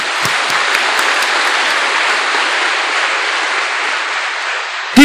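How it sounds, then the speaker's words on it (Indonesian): A big congregation at a religious gathering in Indonesia claps loudly and evenly in a thick, continuous wash of applause that stops abruptly just before a brief sharp sound at the end. "Tepuk tangan untuk DPP."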